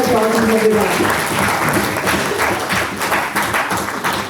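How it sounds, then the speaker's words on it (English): Conference audience in a hall breaks into sustained applause, dense clapping close by that fades slightly toward the end, with a voice briefly audible at the start. "Please can we have a big round of applause from everyone."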